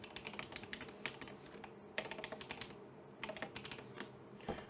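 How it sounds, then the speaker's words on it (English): Quick, steady typing on a computer keyboard while an IP address is entered into a server settings field, with close, soft key clicks running continuously and no voices. "I'll just type that in."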